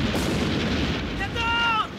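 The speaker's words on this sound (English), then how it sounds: "They're firing at their own outfit! Those fucking gunners are blind!" Artillery fire in a Stalingrad war film, a dense continuous rumble of heavy guns filling the short clip, with a whistling shell passing near the end.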